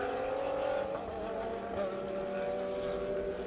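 A Porsche 991 GT3 Cup race car screams down the straight at a racing circuit, its engine note a steady high whine that rises slightly, heard at a moderate distance over broad track noise.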